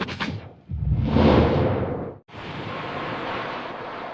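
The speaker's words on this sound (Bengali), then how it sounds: "সাগরের চারিদিকে ঝড়ো হাওয়া বইছে" Cartoon sound effect of stormy wind over ocean waves: a short rush, then a big swelling whoosh, a sudden cut and a steady roaring wash of wind and surf. No one talks.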